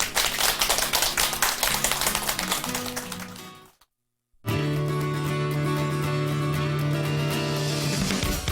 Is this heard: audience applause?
yes